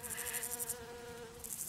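Flies buzzing steadily outdoors with bees and hornets nearby, a continuous close drone layered with higher chirring insect tones, no talk.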